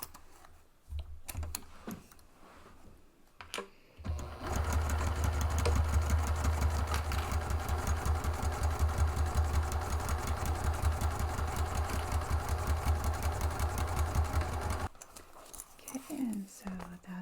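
A sewing machine stitches a bag panel in one steady, loud run of rapid rhythmic stitching lasting about ten seconds, with quieter handling noises before and after.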